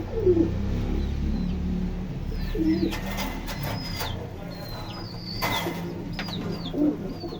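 Pigeons in a loft coo in low, repeated throaty calls amid busy bird chirps, with brief flutters of wings; the chorus is close and continuous with no talk.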